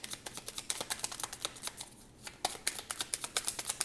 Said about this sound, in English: I shuffle so fast